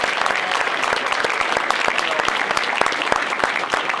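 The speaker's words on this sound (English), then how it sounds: "Let's give them one more round of applause." Sustained applause fills a borough council meeting as the audience gives a group of girls another round, dense clapping steady and loud throughout with no pauses.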